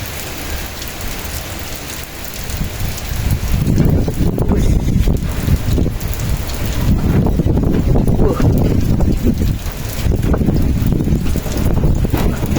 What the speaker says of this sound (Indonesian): Wow, anginnya kencang banget.